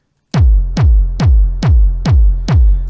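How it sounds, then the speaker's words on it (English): A punchy, deep acid techno kick drum without effects thumps six times at a steady four-on-the-floor pulse, loud and dry with no other instruments. "So it's a classic 4-to-floor kick."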